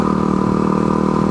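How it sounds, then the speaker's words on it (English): A dual sport motorcycle fitted with a loud FMF Powercore 4 exhaust runs steadily, giving a continuous near, loud engine drone with no talk. "my exhaust it's not the Q4, it's the FMF Power Core 4. And it's pretty loud."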